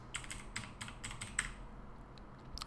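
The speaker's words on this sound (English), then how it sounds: "Let's type in broadcast." Someone types text on a computer keyboard, producing a quick run of light, close keystroke clicks in uneven bursts with short pauses, all quiet and alone.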